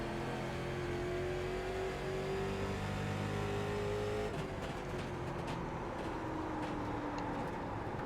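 A late model stock car engine in the iRacing game drones steadily, then rises in pitch as it accelerates on a short oval track, loud and continuous throughout.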